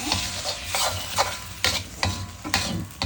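Okra and eggplant sauté in a pan for curry, a loud, close sizzle broken by repeated spatula stirs about every half second.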